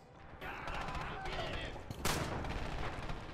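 Gunfire in the video game Red Orchestra, a steady stream of shots with one sharper, louder report midway, moderately loud and continuous throughout.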